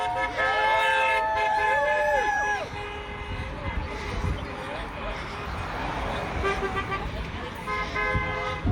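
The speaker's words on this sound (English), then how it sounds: "As you can hear from the honking horns" Car horns honk repeatedly in overlapping toots and longer blasts at a street rally, mixed with crowd voices and passing traffic, loudest at the start and returning toward the end.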